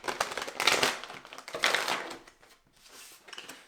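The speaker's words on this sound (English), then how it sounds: "so I'll just give these a quick shuffle right here" Tarot cards being shuffled by hand in two quick bursts of papery riffling and crackling, close and clear, then softer card handling, with no talk.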